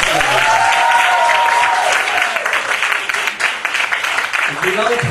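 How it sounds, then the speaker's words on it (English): An audience at an Indian event breaks into loud, sustained applause. The clapping is dense and continuous for several seconds, then thins into scattered claps near the end, with a voice faintly underneath. "give a big round of applause."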